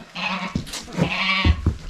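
Several goats bleat close by inside an off-grid cabin under renovation, with repeated wavering cries of varying pitch overlapping one another, and no talk.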